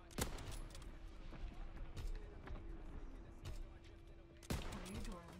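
Mortar barrage in Call of Duty: WWII, several sharp booming blasts at irregular intervals over gunfire and game noise, with a voice speaking faintly underneath.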